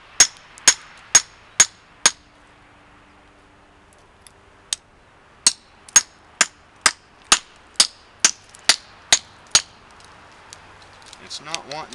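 A thick knife with a heavy convex grind chops into elk bone, giving a run of sharp, loud, evenly spaced cracking strikes near at hand, with a brief pause partway through and a quieter rustle of handling at the end.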